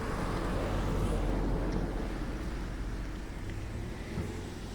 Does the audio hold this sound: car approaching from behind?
yes